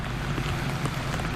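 Steady rain coming down in Los Angeles on a wet Christmas Day, a dense, even patter heard close without pause and with no voices over it.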